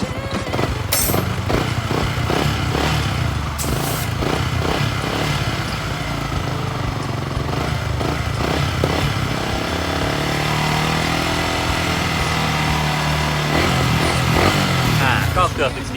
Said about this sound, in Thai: เร่งเครื่องขึ้นมานิดนึง